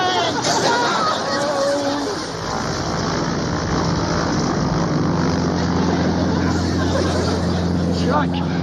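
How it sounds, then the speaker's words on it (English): A propeller airplane's engine drones loudly and steadily throughout, with a crowd's babble and raised voices mixed underneath. "Stop that plane!"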